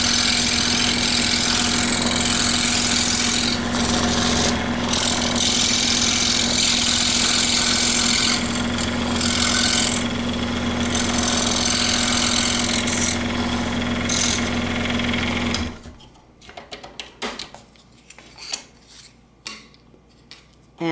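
Scroll saw cutting wooden ornaments, a steady loud motor drone with a constant hum and rasping blade noise that runs for about fifteen seconds, then stops abruptly, leaving faint scattered clicks and handling sounds.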